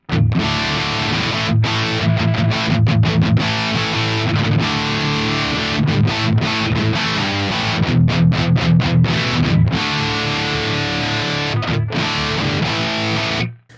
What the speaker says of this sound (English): this one reminds me more of like a true type of lead amp, because you have so much like distortion on it